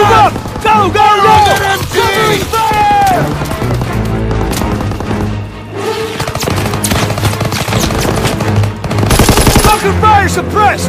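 Sustained machine-gun suppressive fire in Call of Duty WW2, with rapid loud bursts over the din of battle, running under shouted voices throughout.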